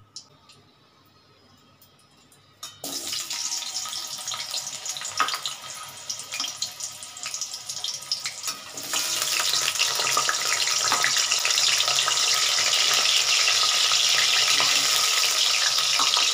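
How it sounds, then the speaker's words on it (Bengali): Potatoes going into hot oil for chilli chicken, a sudden sizzle bursting up after near silence, then a loud continuous frying hiss that grows stronger partway through. "এটাকে আমি হালকা একটু ভেজে নেব"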